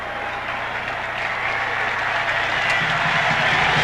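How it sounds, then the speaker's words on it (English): A college football stadium crowd at a 1998 WVU versus Tulsa game roars in approval, a dense, steady wash of cheering and applause that builds slightly louder toward the end. "Gets a roar of approval from the crowd as Antonio Brown makes his way off."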